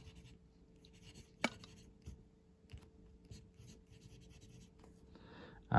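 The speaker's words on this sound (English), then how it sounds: "Okay, let's do a writing sample." An acrylic vacuum-filler fountain pen scratches across paper in short, soft strokes, with a sharper tap partway through; quiet and close, with no talking.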